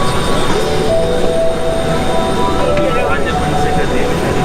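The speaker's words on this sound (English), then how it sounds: "So we are now inside the plane." Steady broadband hum of an airplane cabin parked at Frankfurt before departure, with constant engine and ventilation drone, close and continuous, and faint voices underneath.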